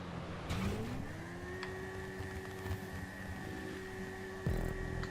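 A boosted Akuma motorcycle in Grand Theft Auto V revs up, its engine note sweeping upward and then holding a steady whine, with thumps and a louder burst near the end.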